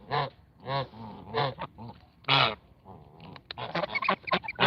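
Sebastopol geese honk repeatedly in loud, nasal bursts, several birds calling over one another at close range, with no speech.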